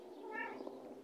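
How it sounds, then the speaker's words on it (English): A house cat gives a single short, faint meow over a steady background hum indoors. "Yes, you funny cat."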